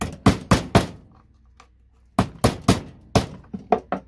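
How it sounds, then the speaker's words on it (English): A hammer striking motherboard relays to break them apart, loud sharp knocks in quick groups of three and four with short pauses between the groups, close by and without talk. "Obviously a hammer just completely breaks it up."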